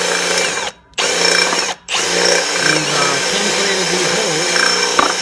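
A power drill whirs loudly and steadily while drilling holes in a lawn aerator, cutting out twice for short pauses before running on, with a grinding, shifting pitch as it bores.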